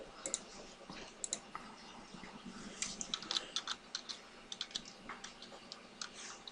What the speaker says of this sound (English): What the hell are you typing?